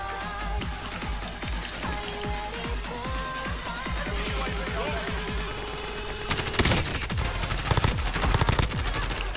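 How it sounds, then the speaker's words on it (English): Rapid automatic gunfire in the video game Call of Duty Warzone, dense bursts of shots that grow heavier and louder toward the end, with voices mixed underneath. "Somebody's shooting that shop again"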